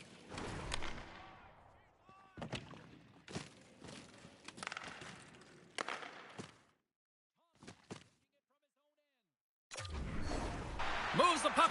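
A thunderous body check in the NHL 25 hockey video game, with several sharp, loud impact thuds and crunches spaced through the passage, a brief quiet gap, then a burst of crowd roar, under commentary.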